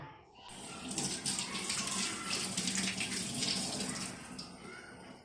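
Fresh curry leaves, just picked from a garden, are rinsed under a running tap, giving a steady, close splash of water that swells and then eases off, with no one speaking.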